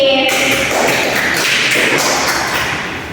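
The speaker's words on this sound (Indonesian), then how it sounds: "Beri aplaus buat ini." A classroom of students applauds, a steady burst of close clapping that fills the room and tapers off slightly toward the end.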